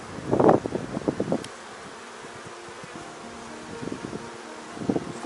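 Honeybees buzz around an opened beehive during a colony inspection, a steady close hum with brief louder bursts of buzzing near the start and again toward the end.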